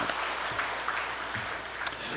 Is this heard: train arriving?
no